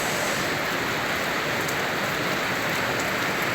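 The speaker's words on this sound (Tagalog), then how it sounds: "lumalakas ang ulan" Heavy rain pours steadily during a low-pressure storm, a loud, dense hiss of drops hitting surfaces that stays constant and unbroken, with no voices over it.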